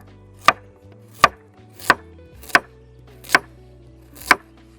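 A knife chops carrots on a wooden board in six crisp, evenly spaced strikes, each a sharp close thud with no talking.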